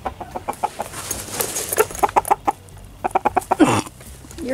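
A chicken in a barn clucks in a lively series of short, repeated calls, some in quick bursts, ending with a rising squawk; close and fairly loud, with no talking.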